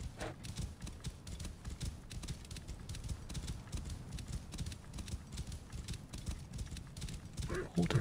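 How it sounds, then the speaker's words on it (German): Horse hooves in Assassin's Creed Origins, a lone horse clip-clopping in a steady rhythm, fairly quiet, with a low rumbling game background. "Oh, da drüben ist ein einsames Pferd."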